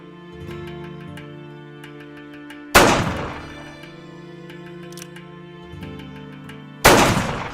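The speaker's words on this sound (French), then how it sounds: "Tirez quand vous êtes en lieu sûr" Two loud, sharp gunshots during shooting practice ring out several seconds apart over a quiet musical background.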